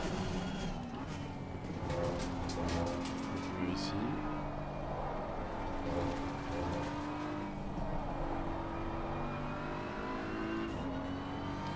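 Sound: BMW M4 GT3 race car engine, Assetto Corsa Competizione video game

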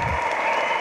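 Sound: audience applause at a speech

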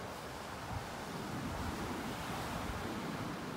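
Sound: ocean surf and wind on a beach in North Naples, Florida

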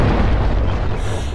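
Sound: explosion of enemy BTR in a video game

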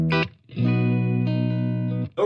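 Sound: Ibanez RG450DX electric guitar through Marshall 6100 channel one, no reverb

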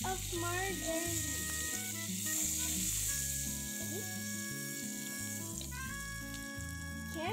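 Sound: margarine sizzling in a pan for tuna pasta

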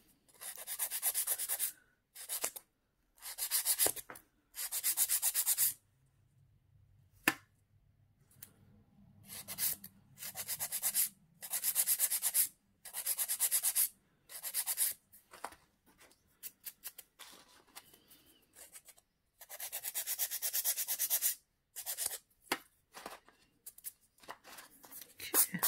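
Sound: filing acrygel nails

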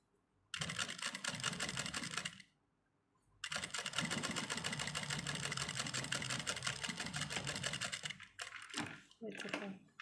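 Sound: sewing machine stitching a trouser crotch seam

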